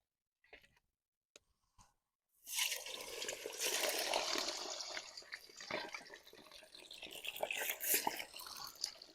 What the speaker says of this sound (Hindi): घी अच्छी तरीके से गर्म हो चुके हैं। अब हम इसमें डालेंगे गोश्त।